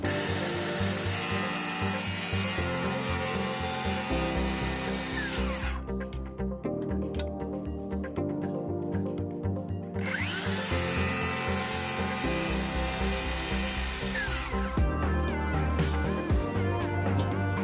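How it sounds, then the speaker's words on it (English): A circular saw guided along a square cuts through composite decking, a loud sustained whine that drops briefly as the blade slows, then rises again. "Line the circular saw up right against the square so it stays straight."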